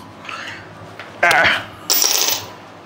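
Screws being tightened on a Max Racing catback exhaust fitted to a GR Yaris: a soft scrape, then two loud close bursts of metallic ratcheting clicks, with the second burst lasting about half a second.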